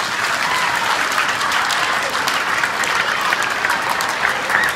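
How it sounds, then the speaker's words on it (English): Students, staff and police officers at a school Red Ribbon assembly applaud donors with steady, dense clapping that stays loud and even throughout, with no talk over it. "I want to give you a big round of applause"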